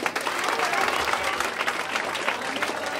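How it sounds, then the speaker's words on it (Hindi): A crowd at a motivational talk applauds steadily and fairly loudly, a dense wash of clapping hands that holds for a few seconds. "अरे हम जब बोल रहे हैं तो ताली बजाओ"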